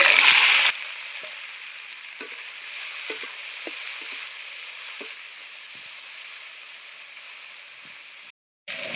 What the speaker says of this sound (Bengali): নুন মাখিয়ে রেখে দেওয়া সবজিগুলো ভেজে নিতে হবে